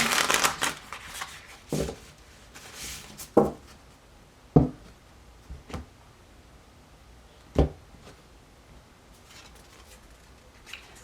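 Tarot cards are shuffled and riffled up close, followed by a few sharp taps and soft slaps against a surface with quiet gaps between.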